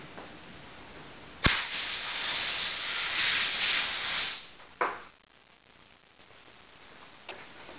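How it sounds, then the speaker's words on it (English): Water sprays onto a metal piece to rinse off a brown tarnish treatment, a loud steady hissing spray lasting about three seconds, then a short burst and a faint tap with quiet between. "And we'll rinse it."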